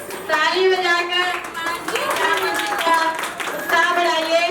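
At a school performance of the Ramayana by young children, an audience claps steadily throughout, a dense patter of many hands that swells slightly toward the end and carries some overlapping voices.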